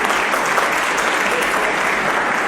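A seated audience and the people on stage at an awards ceremony clap loudly together, a dense, steady wash of applause that stays close and even throughout.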